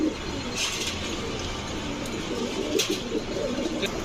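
Pigeons, pairs of racers, coo softly in a loft over a steady hum of background noise, with a few faint chirps and wing rustles scattered through.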